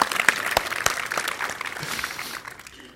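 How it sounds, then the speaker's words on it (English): Audience applause in a presentation room, honoring the winning self-driving RC car, with dense steady clapping that fades slightly toward the end. "So let's give a round of applause for the actually winning car of Gijs"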